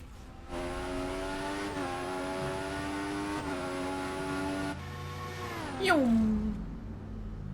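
Formula One car from the F1 2014 racing game howls at steady high revs through a qualifying lap, with upshifts and a sharp downshift and braking squeal near the end, loud and continuous with no talk.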